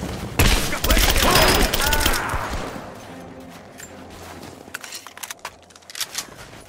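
Gunfire in the video game Rise of the Tomb Raider, a loud burst of rapid shots and crashing impacts that fades into scattered quieter pops, with game voices shouting under the shooting.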